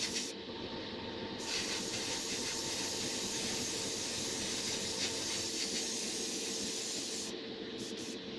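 An airbrush sprays Badger Stynylrez polyurethane primer in a heavier coat, giving a steady, close hiss of air and paint that runs almost unbroken with brief pauses at the start and end.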